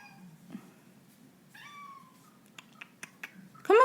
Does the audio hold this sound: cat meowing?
yes